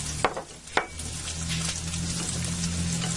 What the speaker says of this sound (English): now I'm going to whisk this around, get it mixed up